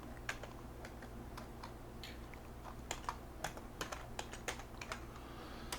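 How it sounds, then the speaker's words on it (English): Irregular keystrokes clatter on a computer keyboard, quick bursts of clicking over a low steady hum, with no voices. "click in the search box and begin typing."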